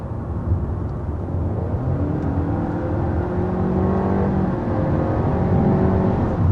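A 2023 Honda Civic sedan with a CVT accelerates hard, its engine drone rising in pitch in stepped surges as simulated shifts come through, loud and continuous from inside the car.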